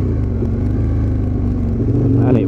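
An Aprilia RSV Mille motorcycle's engine drones loud and close under throttle, a continuous throbbing rumble that builds slightly in pitch near the end as the revs climb.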